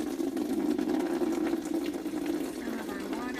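Water draining from a patient's hair during a bedside hair wash, a steady gurgling, trickling flow that runs evenly throughout.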